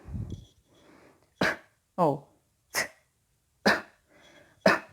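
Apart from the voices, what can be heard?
light cough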